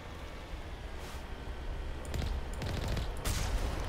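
Gunfire in the video game Mass Effect crackles as several quick bursts of shots, fairly faint under steady background hiss, with the busiest firing in the last two seconds.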